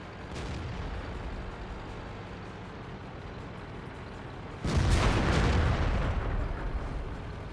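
A heavy tank cannon fires in World of Tanks, an IS-8 battling on the Himmelsdorf map: a single loud booming blast with a rumbling tail cutting through the steady low drone of the engine.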